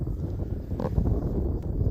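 Gusty wind at an outdoor RC model airplane flying field buffets the microphone with a low, rumbling roar that swells and eases throughout.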